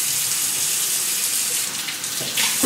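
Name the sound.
water running from sink tap to soak couscous semolina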